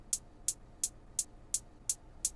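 Crisp hi-hat hits repeat in a steady, evenly spaced pattern, seven short bright ticks over a faint background hiss.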